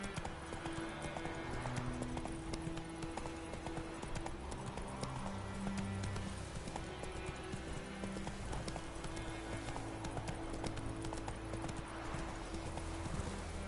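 Hooves of Roach, the horse in The Witcher video game, clop in a steady galloping rhythm, moderately close, with a faint snort or whinny and a low game soundscape underneath.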